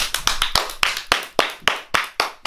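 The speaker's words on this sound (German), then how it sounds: "Jetzt ein großer Applaus." Hands clap for a talk-show guest in a quick, uneven run of about a dozen sharp, close claps that sound like a small group rather than a large crowd.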